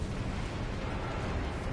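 Fire bomb explosion in the Marvel's Spider-Man video game: a dense, roaring blast that fills the whole short stretch at steady loudness, with a rumbling low end and no break.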